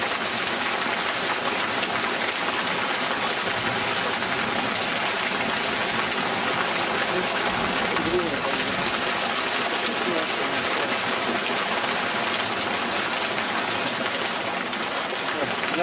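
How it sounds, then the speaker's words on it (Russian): Dense, steady hiss of heavy rain pouring down during a thunderstorm with hail, continuous and enveloping throughout, with people talking quietly beneath the downpour. "Вот это гроза."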